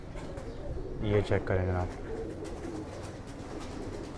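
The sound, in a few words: pigeons cooing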